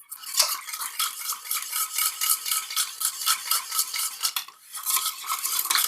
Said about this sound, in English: And now mix well to make sure the starch dissolves completely.